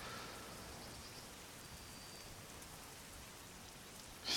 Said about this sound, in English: Still with the rain, man.